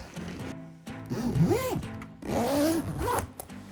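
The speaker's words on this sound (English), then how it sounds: "Time to zip it up." A suitcase zipper is pulled in two quick strokes with a short pause between, close up and fairly quiet.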